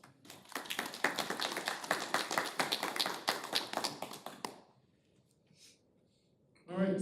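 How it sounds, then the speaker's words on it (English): Attendees at a transit authority board meeting give a short round of applause, a small group of distinct, sharp claps that stops abruptly, followed by near silence and then a voice beginning to speak. "So that deserves a round of applause."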